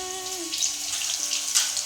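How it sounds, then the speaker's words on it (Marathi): Leftover chapati pieces fry in hot oil, a steady close sizzle and crackle throughout with a brief louder pop near the end, no voices. "थोडे थोडे करून आपलं थोडे थोडे करून तळून घेऊया आपण."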